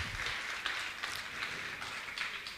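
An audience at a Jain religious gathering applauds during an honoring ceremony, giving a dense, even wash of hand clapping that stays fairly loud for the whole short stretch.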